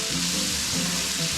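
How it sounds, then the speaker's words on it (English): Onion sizzles steadily as it fries and caramelizes in a hot pan, a continuous close crackle and hiss with no talking. "Stir it around. We want to get the onion nice and caramelized"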